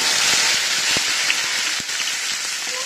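Fenugreek seeds, garlic and curry leaves frying in a pan for Tamil cumin kuzhambu, giving a steady dense sizzle throughout with a few faint clicks and no talking.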